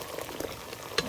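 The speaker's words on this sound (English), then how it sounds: "So I have 4 ounces of pasta boiling here in this water." Four ounces of dry penne pasta boiling in a pot of water, giving a short burst of close bubbling and sizzling with a brief sharper rattle near the end.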